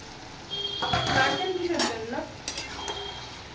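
Fried moong dal tipped into a bottle gourd dish, then stirred in the pan with scraping utensil strokes and soft clinks over a light sizzle, while a person talks at moments.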